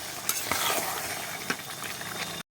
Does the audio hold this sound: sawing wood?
no